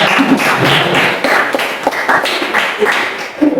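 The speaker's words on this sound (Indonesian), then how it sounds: "kalian sedang memberikan aplaus" Students clap together in a classroom, a dense, steady patter of many hands at close range that keeps going throughout with only faint voices beneath it.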